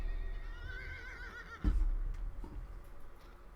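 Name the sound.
horse whinnying in a video game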